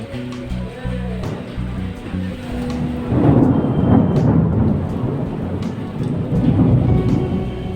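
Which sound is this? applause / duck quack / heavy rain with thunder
heavy rain with thunder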